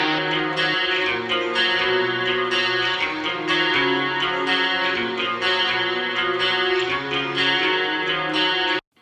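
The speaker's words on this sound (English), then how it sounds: "And then we've got these clean electrics that sound kind of like this." Clean electric guitars, double tracked and panned left and right, played through a Gallien-Krueger amp in an 80s rock-style production, ringing steadily with bright repeated chords for about nine seconds before stopping abruptly.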